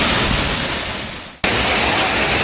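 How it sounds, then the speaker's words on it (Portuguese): Waterfall at Cachoeira de Periperi in Pernambuco, a steady broadband roar of falling water, close and loud, with one sharp break in the middle before the rush resumes. "Cachoeira de Periperi, ó. Sensacional esse lugar, hein? Cachoeira extraordinária."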